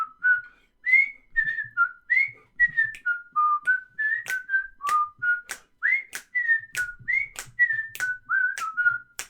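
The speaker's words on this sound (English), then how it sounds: "Please whistle the theme song." A person whistles a theme song alone, a clear bright melody of short and sustained notes in a steady phrased rhythm, close and fairly loud.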